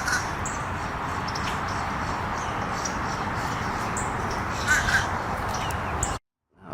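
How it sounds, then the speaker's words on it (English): Crows caw repeatedly over a steady outdoor hiss at a shady lakeside with big trees at Lake Hunter in Lakeland, Florida. The calls are moderately distant and scattered, and the sound cuts off abruptly near the end. "Lots of birds making noises."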